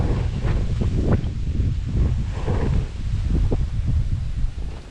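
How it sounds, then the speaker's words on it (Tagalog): Steady wind buffets the microphone in a continuous low rumble, with faint rustling mixed in and no voices. "grabe sarap ng hangin ah"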